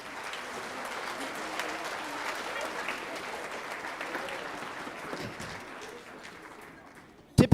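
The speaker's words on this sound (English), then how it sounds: "How about a nice round of applause for him and all his hard work?" Sustained audience applause fills an auditorium at a 5th and 6th grade school winter band concert, a steady wash of clapping that holds for several seconds and then tapers off.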